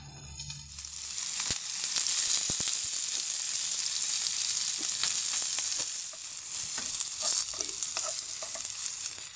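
Stuffed green chillies for a chilli garlic fry crackle in a covered pan, a dense, loud, continuous sizzle over nine seconds, dotted with small pops and scattered clicks, with no talking.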